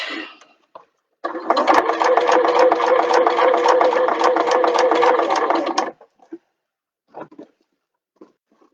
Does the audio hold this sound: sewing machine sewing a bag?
yes